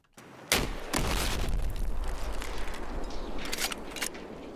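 A compressed game explosion gives a loud boom, then sustained dense crackling debris and echo that stay prominent, with scattered sharp pops near the end.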